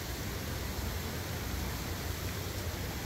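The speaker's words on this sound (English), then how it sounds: "you can hear the water flowing in the background." Steady broadband rush of water flowing from a memorial fountain in Washington, DC, with sprays falling continuously and evenly, no talk over it.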